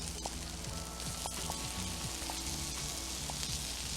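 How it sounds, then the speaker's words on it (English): Sausages sizzle and fry steadily on a Blackstone griddle, a dense continuous crackle with small pops and scraping clicks as they are flipped, close and alone. "And we're going to flip these sausages now."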